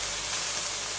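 Thai ginger stir-frying in a hot pan before pork liver goes in, a steady close hiss of sizzling oil, even and unbroken, with no talking.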